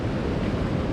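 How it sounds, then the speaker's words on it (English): Surf breaking along the shore near a creek mouth with shallow water, a steady broadband wash with wind buffeting the microphone throughout, close and continuous. "I see some more breaking waves"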